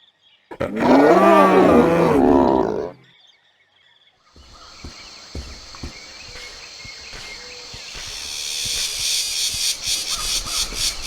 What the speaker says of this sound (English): giving it some very warbly, wriggly chirps that match its skittish, slithery appearance